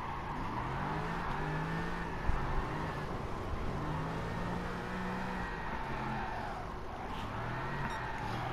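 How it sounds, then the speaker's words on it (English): A car drifting in the video game Gran Turismo Sport, its engine holding steady high revs with pitch swells as it slides, loud and continuous throughout. "This car slides too much."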